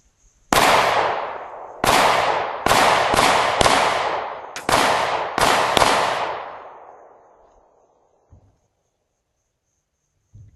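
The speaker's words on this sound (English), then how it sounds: "let's see what old handgun does. 9mm. Let's go bowling." Seven loud, sharp 9mm handgun shots fired at bowling balls outdoors, spaced irregularly over about six seconds, each with a ringing decay. They are followed by quiet and a couple of faint knocks.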